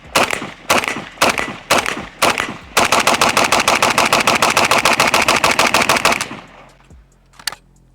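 Pioneer Arms 556 Sporter AK rifle firing: a few spaced single shots, then a long rapid string of loud, close cracks that stops abruptly, followed by a lone last shot.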